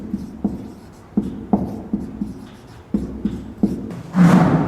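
A pen or chalk scratches out writing in a Hindi literature class, with short, rhythmic strokes and taps close by and a louder scrape at the end, without speech.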